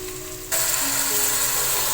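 Beef hitting hot pink fried onions in a pan for a beef stew, a sudden loud sizzle that jumps in halfway and then holds as a steady hiss.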